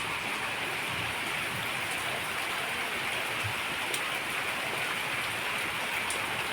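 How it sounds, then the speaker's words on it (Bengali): Rain falls steadily and fairly heavily outdoors, a dense even hiss of drops on surfaces with a few sharper close patters scattered through. "বেশ ভালো লাগছে দেখতে না বৃষ্টিটা।"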